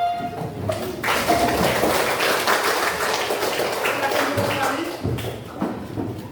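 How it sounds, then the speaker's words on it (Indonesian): Students in a school classroom give a standing ovation for their groups: dense, close applause rises quickly and holds steady for about five seconds before thinning out, with a voice briefly audible beneath it. "Kita beri standing aplaus untuk semua kelompok."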